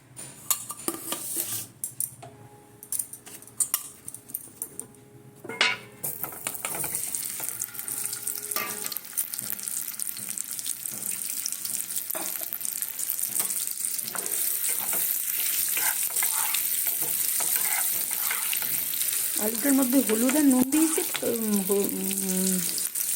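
Potatoes go into oil in a pan for an egg omelette curry. Early utensil clatter and clinks give way to a steady, building sizzle, and a voice briefly sounds near the end.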